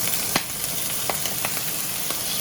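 Chicken seasoned with salt and pepper frying in a hot pan, a loud continuous sizzle with sharp crackles and spits popping through it, close by and with no talking.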